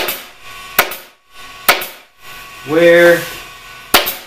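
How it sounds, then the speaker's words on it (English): Staple gun fastening fabric onto a step cornice, four sharp close snaps spaced about a second apart, with a brief spoken word between them. "Go ahead and staple."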